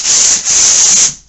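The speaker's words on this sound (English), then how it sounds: "start from the corner, just lightly sand it, and you can make it look very professional" A sanding sponge rubs over a drywall mud corner in steady back-and-forth strokes, a close, loud, hissing scrape with a brief pause between passes.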